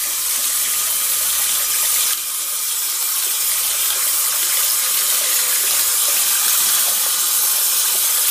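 Tap water runs steadily over a strand of yarn as conditioner is rinsed out of it, a continuous close splashing gush filling the whole span with no talk.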